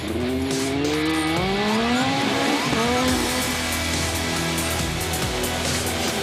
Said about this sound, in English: Tyres on Kopecky's Škoda, 4 studded tyres, remember